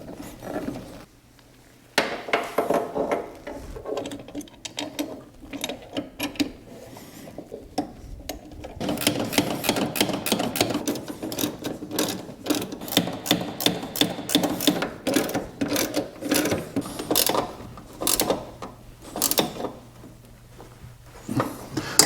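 A ratchet wrench tightens two bolts holding a Wilwood dual bowl master cylinder bracket against a car firewall: quiet handling at first, then long runs of close, rapid clicking in short back-and-forth bursts.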